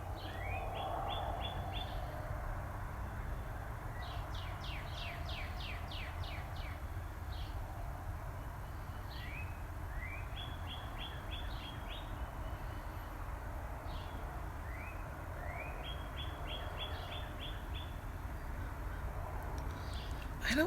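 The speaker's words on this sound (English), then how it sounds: "I love the birds." Birds singing at sunrise in The Villages, Florida, repeated bright chirping phrases and trills in bursts over a steady low background hum, moderately distant, with no talk.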